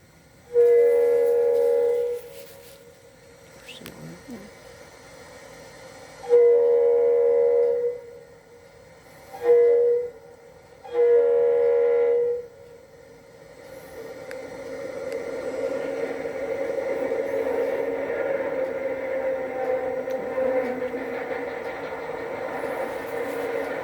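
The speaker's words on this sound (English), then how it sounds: "hosts southbound auto rack train number 105 as it rolls across Sunbeam Road" A Florida East Coast southbound auto rack train, number 105, crosses Sunbeam Road south of Jacksonville, sounding four loud horn blasts in a long-long-short-long pattern before the steady rumble of rolling cars builds and continues.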